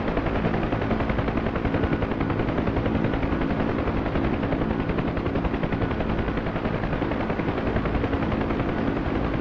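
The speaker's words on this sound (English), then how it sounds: "We're in a Huey right now." A Huey helicopter on a search-and-rescue flight gives a loud, continuous rotor thump and engine roar, heard from inside the aircraft with no other sounds over it.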